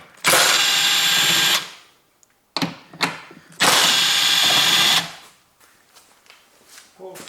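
Two long, loud bursts of a power tool spinning out 10mm bolts on a BMW 3 series engine bay, each lasting over a second, separated and followed by short clanks and tool handling noises.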